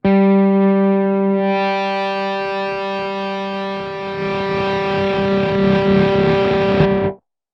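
A sustained, heavily distorted electric guitar chord through a BOSS ME-90 compressor with distortion rings out loud and compressed, holding steady with a buzzing edge before cutting off abruptly.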